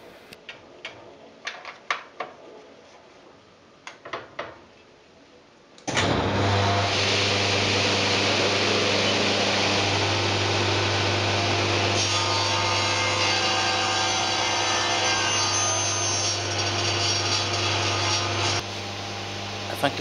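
Wood is cut at a 55-degree angle for a workshop hand plane: a few sharp knocks and handling sounds, then a loud steady power-saw whine runs for about twelve seconds before dropping and ending.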